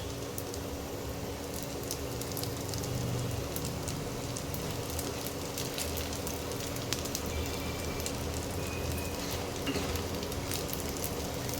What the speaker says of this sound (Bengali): দেখো এইভাবে লাল লাল করে ভাজতে হবে